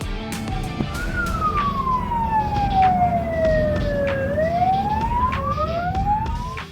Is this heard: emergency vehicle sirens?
yes